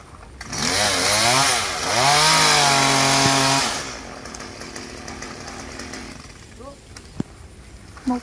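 A chainsaw cuts a coconut tree in the rain. The engine revs loud and close in two long bursts, then drops to a low idle under steady rain hiss, with a few faint knocks near the end.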